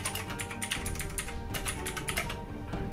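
Rapid, continuous typing on a cheap RGB mechanical keyboard with blue switches produces loud, sharp clicky keystrokes in an uneven rhythm, heard up close with no talking.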